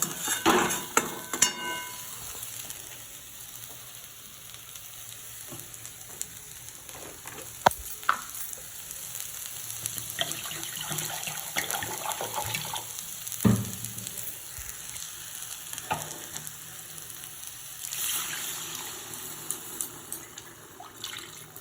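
Water that rinsed out the spice bowl is poured into curry frying in a pan, the oil hissing and sizzling with brief splashes and stirring, close and steady, with no talk.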